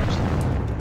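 A hand grenade blast in the shooter game AVA, a loud, sustained low boom filling the whole brief moment, close and alone with no talk.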